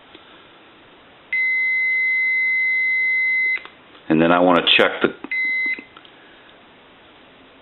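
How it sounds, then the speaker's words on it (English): Multimeter continuity tests on the coils of a Kellogg wood wall crank telephone, giving two steady electronic beeps, one long and one shorter, with someone speaking between them. "you'll hear the meter beep."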